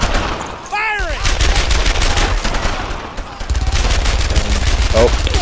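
Gunfire in the World War II shooter Brothers In Arms: Earned In Blood, with loud, dense rapid bursts and volleys of rifle and machine-gun fire nearly throughout, while a player talks over it.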